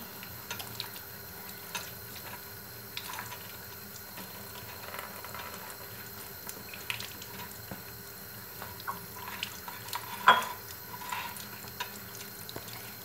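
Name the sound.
water rinsing an item under a tap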